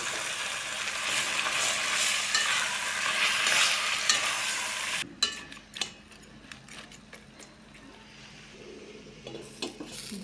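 Goat head meat frying with spices in a pot: loud, dense sizzling for about half the time, then the frying noise drops away, leaving scattered metallic clinks and taps of utensils.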